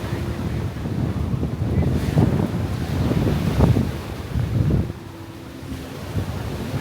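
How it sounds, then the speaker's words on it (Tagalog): Steady surf rolls and washes in close by on a beach in the Philippines, with wind buffeting the microphone throughout; no voices. "Ito yung pinakamalapit na beach sa amin guys."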